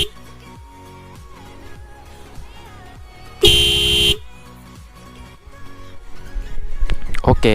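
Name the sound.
Toyota Innova car horn fitted on Honda CBR250RR motorcycle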